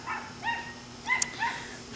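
A dog barks in the background, several short faint yips spaced across a couple of seconds at a distance.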